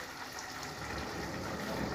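Water gushing steadily into a container, a continuous splashing pour at low volume.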